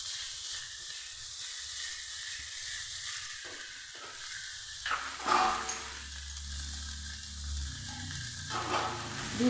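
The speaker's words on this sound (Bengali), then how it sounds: "এভাবে পুরটাকে আমি একটু কষিয়ে নিয়ে ভেজে নেব" Cauliflower paratha filling fries over a medium flame in a pan, a close, steady hissing sizzle broken by a few clattering stirs of the spoon and brief bursts of steam.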